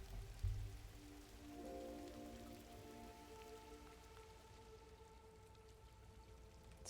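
Soft rain ambience from the video game GRIS patters gently and continuously with faint drip textures and a low musical hum beneath, quiet and steady throughout.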